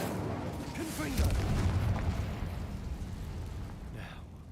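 A Confringo explosion spell cast in Hogwarts Legacy, a low rumbling boom that swells and slowly fades under a voice.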